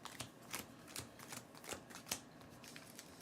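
Quick bursts of playing cards being riffled and shuffled in Dragon Eclipse, repeated in a steady rhythm, close and fairly quiet with no talking.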